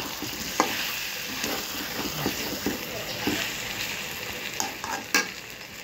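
Eggs go into a pan of frying potatoes and are stirred, a steady close sizzle with repeated spatula scrapes and taps at uneven intervals.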